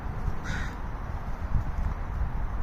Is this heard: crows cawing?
yes